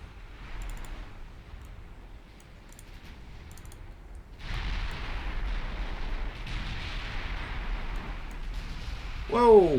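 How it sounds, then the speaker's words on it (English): Naval battle in the game Ultimate Admiral Dreadnoughts, a battlecruiser blowing up under artillery fire: soft distant gunfire at first, then a sustained loud rumbling blast that keeps roaring, ending with a swelling tonal effect. "Battlecruiser going up in smoke there"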